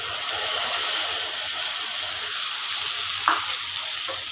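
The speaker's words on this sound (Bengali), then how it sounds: "এবার আমি মেশাচ্ছি সর্ষে পোস্ত" Thinly sliced ivy gourd, salted and turmeric-coated, frying in a pan with mustard, poppy seed and tomato paste, giving a loud, close, continuous sizzle with a brief stirring scrape near the end.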